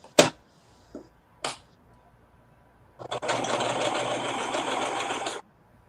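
A few clicks and knocks come first, then a sewing machine stitches fabric in one steady, buzzing run of about two and a half seconds before stopping, close and fairly loud.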